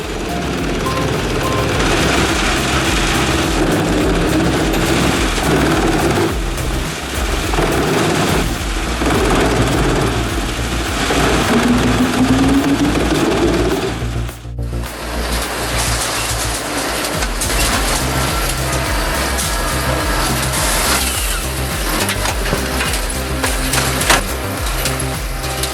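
A 1,200-horsepower wood chipper shreds 16-inch logs in a loud, continuous grinding roar, with a brief dip in the middle before the heavy shredding resumes.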